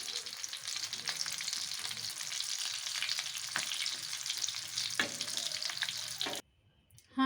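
Chicken Chinese pulao sizzles steadily in a pan, with faint stirring scrapes under the frying, close and even, before the sound cuts off near the end.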